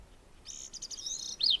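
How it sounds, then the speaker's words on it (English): A gray-cheeked thrush sings a single phrase of thin, high, rising and falling whistled notes that ends in a quick buzzy flourish, heard clearly against a quiet background. "This is a gray cheek thrush."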